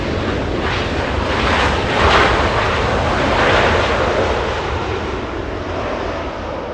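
A Singapore Airlines airliner lands on runway 24 right at Los Angeles International Airport, its spoilers up and flaps down, giving a loud, broad rushing roar that swells twice and then eases as it slows.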